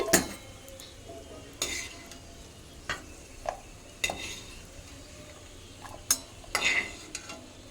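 Soft frying sizzle of bread halwa in a pan over high flame, broken by sharp scattered clinks and scrapes of a utensil against metal, fairly quiet and with no talking.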